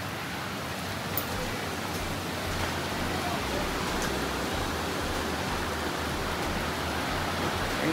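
Steady rain falls over a balcony in Goa, a dense, even hiss that holds unbroken for the whole stretch, with a faint low hum beneath it and no voices.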